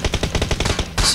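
Rapid bursts of automatic gunfire in a video game hammer out a quick, even rhythm of close, loud shots aimed at the player, ending in a sharper blast.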